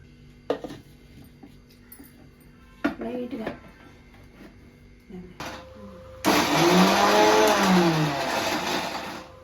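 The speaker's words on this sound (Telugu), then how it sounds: "ఇవి చల్లారిపోయినాయి మిక్సీకి అయితే వేసేస్తాను" A kitchen mixer grinder processes cooled old tamarind peel chutney ingredients. It kicks in abruptly after several seconds of quiet handling knocks and talk, then whirs loudly and steadily to the end.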